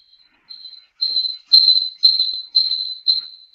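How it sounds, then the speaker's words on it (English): Crickets chirp in a run of evenly spaced, shrill pulses that start faint and grow louder and steadier, alone against a quiet background. "And I hear crickets."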